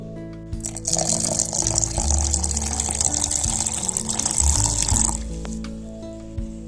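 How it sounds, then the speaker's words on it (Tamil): Water poured into a ground banana stem mixture ahead of blending, a steady rushing pour that runs for several seconds with a low mechanical hum underneath, then stops. "இப்போ இது கூட கொஞ்சம் தண்ணி ஊத்திட்டு அப்புறமா நைஸா அரைச்சி எடுத்துக்குவோம்."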